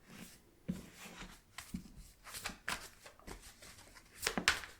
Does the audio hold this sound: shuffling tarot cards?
yes